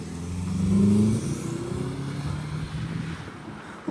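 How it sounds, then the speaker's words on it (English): A Toyota engine fitted with a new cold air intake revs up to a loud, swelling roar, then settles into a lower, steady rumble that fades slightly, with no speech over it. "Give it gas one more time on here."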